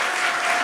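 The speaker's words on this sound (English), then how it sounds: "If you'd like to clap at this time as the devotees did" Applause from devotees at a Srimad Bhagavatam class, a short burst of dense, steady clapping filling the room without any talk.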